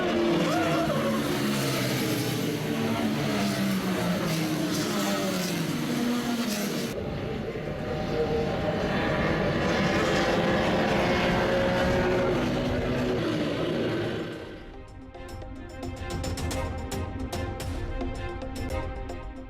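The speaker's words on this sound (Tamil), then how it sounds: "நோவிஸ் கோப்பைக்கான போட்டியில் சீறி பாய்ந்த கார்கள்" Race cars roar at a national-level car race in Coimbatore during a Novice Cup event, a loud, continuous engine din with shifting pitch that carries straight through, easing slightly near the end.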